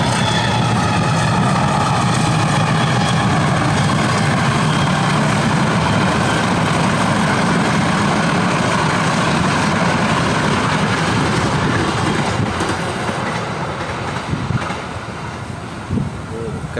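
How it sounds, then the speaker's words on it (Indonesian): A train rolls past on the northern Pantura railway line near an ancient temple site in Java, a loud, close, continuous rumble with heavy low engine drone that holds throughout and eases slightly near the end. "Itu ada kereta lewat Mas tuh Mas."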